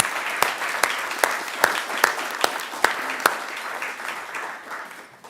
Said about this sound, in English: I'd like to ask if we can all give them a warm round of applause